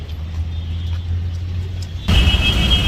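A car pulls up amid heavy Kolkata traffic: a steady low engine rumble and road noise, swelling suddenly louder near the end with a high whine, close by, no talk.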